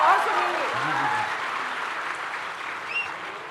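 An audience claps loudly at a Jashn-e-Rekhta Urdu poetry event, a sustained wash of applause that starts strong and slowly fades, with a voice briefly heard over it near the start.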